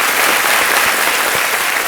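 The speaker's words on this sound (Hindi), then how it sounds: "तालियों के साथ इनका स्वागत।" Studio audience applause on the set of the Hindi quiz show Kaun Banega Crorepati, a steady, dense wash of clapping from a large crowd filling the whole stretch without any voices.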